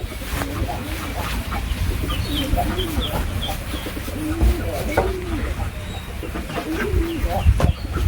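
Pigeons coo steadily and repeatedly in the morning after being let out, a close, soft rolling murmur, with clucking fowl and faint voices in the background.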